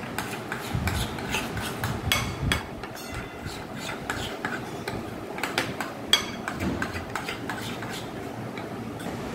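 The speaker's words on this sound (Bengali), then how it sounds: "এবার দই আর বেসনটা খুব ভালোভাবে একসঙ্গে মিশিয়ে নিতে হবে" Yogurt and gram flour stirred together in a bowl for kadhi, a continuous busy scraping with frequent spoon clinks against the bowl at a close, steady rhythm.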